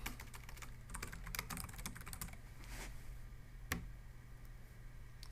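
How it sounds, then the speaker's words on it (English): Close, quiet typing on a computer keyboard, with a run of quick clustered keystrokes followed by sparser taps and one sharper key strike. "And I just type in the keyword property investing."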